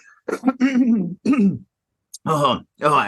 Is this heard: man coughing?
yes